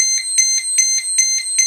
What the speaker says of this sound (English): I'm gonna go ahead and throw my buzzer on.